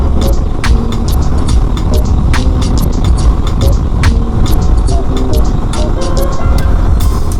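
Motorcycles ride along a road in a small group, a loud continuous engine drone mixed with heavy wind rumble, recorded close from a moving bike.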